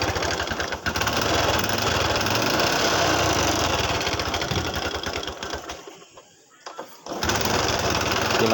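A motorcycle engine runs just after repair of valves bent when the piston struck them for lack of oil, its throttle not yet tuned. It chatters loud and close, briefly drops away near the end, then roars back.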